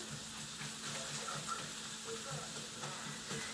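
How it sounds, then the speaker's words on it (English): Sausage crumbles fry in a pan for Southern gravy, a steady close sizzle with faint crackling and occasional stirring scrapes, continuous and unaccompanied by voices. "So now our sausage crumbles. They're almost cooked through here."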